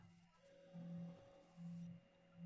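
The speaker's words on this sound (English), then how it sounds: "that was my phone that just went off" A mobile phone goes off indoors, giving two short, even buzzing pulses over a steady low electronic hum; the sound is fairly faint and no one speaks.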